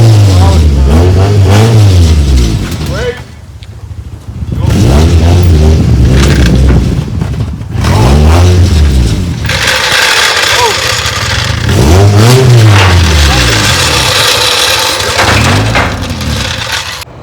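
Engine of a Scion xB car driving on the highway, loud and close, with repeated revving swells as it accelerates and eases off, a steady road drone between the surges.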